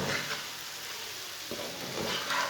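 Lemon pickle frying in spices with salt and chili: a steady, close hiss of sizzling oil with a couple of brief stirring swells, no voices.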